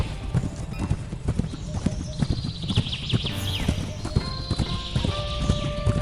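Horse hooves clip-clop at a steady pace as a king rides out toward the forest to hunt with two soldiers, loud and continuous, with story-style music and background sound.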